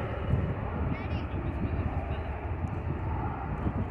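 A jet aircraft roars at DFW airport, a loud continuous broadband rumble that stays steady throughout over wind buffeting at an outdoor plane-spotting spot.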